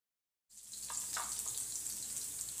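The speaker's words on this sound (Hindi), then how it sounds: "इन सबको हल्का सा भून लेंगे।" Chopped ginger and green chilies start frying in a pan after a brief silence, turning into an even, bright hiss that holds steady to the end.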